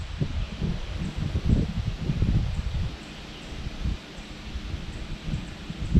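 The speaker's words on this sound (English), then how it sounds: "It's blowing pretty good out here. There'll probably be cuts here and there throughout this video because of the wind." Wind gusting at East Twin Lake Campground on a July morning, low rumbling buffets against the microphone with rustling leaves, rising and easing in uneven waves.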